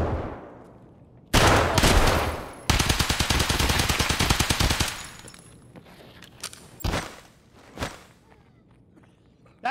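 Loud close automatic gunfire in the shooter game Escape From Tarkov, aimed at an AI scav, with two long rapid bursts followed by scattered single shots and footsteps.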